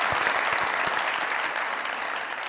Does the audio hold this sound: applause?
yes